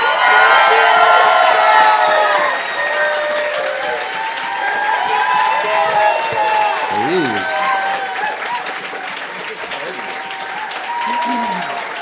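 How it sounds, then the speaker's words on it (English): A live podcast audience claps and cheers for two panelists, loud applause with whoops and shouted voices that dips and swells over twelve seconds. "Please continue clapping for our unbelievable panelists, Marc Evan Jackson and D'Arcy Carden"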